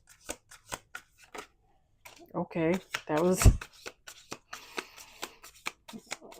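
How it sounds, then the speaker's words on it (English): Tarot cards shuffled by hand for a reading, giving crisp riffling bursts and soft slaps as the deck is cut and squared, with a person talking in between. "Last shuffle."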